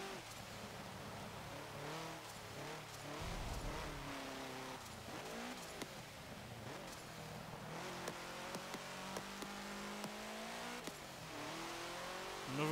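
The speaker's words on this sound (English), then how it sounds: "This car's going far faster than I ever expected it to." A 1967 Volkswagen Type 3 1600 L in Forza Motorsport 7, its engine revving hard through rising and falling gear pulls with brief tire squeals, loud and continuous with no voices.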